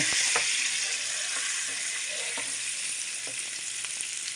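Oil melting and sizzling in a pan at the start of making halva, a steady close hiss of frying with faint scattered ticks and no talk.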